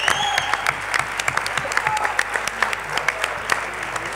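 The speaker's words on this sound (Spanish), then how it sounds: "En lugar de terminar con un aplauso, arrancar con uno por ustedes que vinieron." An audience applauds at a book presentation: sustained, fairly close clapping from a small crowd, with distinct individual claps standing out over a continuous patter.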